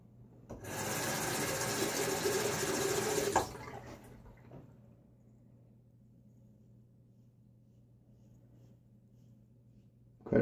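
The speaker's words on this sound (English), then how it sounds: "First time shaving with this razor, second time with this blade, first time with this soap." A Gillette Rocket HD safety razor scrapes across lathered facial hair for about three seconds, a close, steady rasping stroke, followed by quiet room hum and a couple of faint taps.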